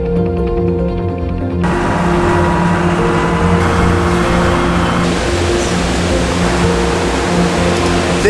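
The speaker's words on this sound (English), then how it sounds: "Now we have a tractor ride into the rainforest." A tractor rumbles along on a ride into the Costa Rican rainforest, its engine droning loud and steady with broad rushing noise from motion and wind, the sound growing fuller after the first couple of seconds.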